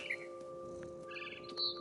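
A mother bird chirping in the video game What Remains of Edith Finch, a few faint high tweets and short chirp tones over steady electronic background tones, quiet and with no speech.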